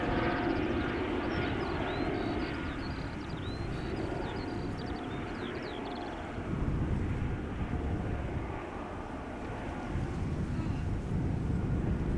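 An airliner arriving on the Polderbaan runway at Schiphol gives a continuous, fairly distant jet engine roar mixed with wind buffeting on the microphone, holding steady and swelling slightly toward the end.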